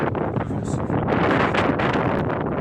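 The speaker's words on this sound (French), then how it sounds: "Là, on tente de marcher contre le vent. C'est extrêmement difficile." Strong wind roars across Sahara desert dunes, a loud, steady buffeting gust that batters the microphone throughout with no letup.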